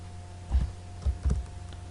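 A few separate keystrokes on a computer keyboard while web-development code is typed, landing as three dull, close taps in a short burst, with no talking.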